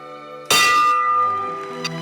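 A single loud church bell strike rings out and its tones hang and slowly fade, with a faint second knock near the end.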